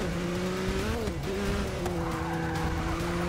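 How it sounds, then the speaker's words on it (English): A race car in Forza Motorsport 6 brakes hard during a long endurance race, its tires squealing loudly over a steady engine drone, with pitch sliding down then holding, close and continuous for a few seconds. "Especially with all this braking."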